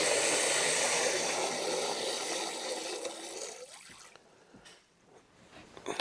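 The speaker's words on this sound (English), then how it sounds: "And we got water, all kinds of pressure." Water from a deep forest well pump gushes loudly and steadily under pressure, then cuts off after about four seconds, leaving only faint drips and splashes.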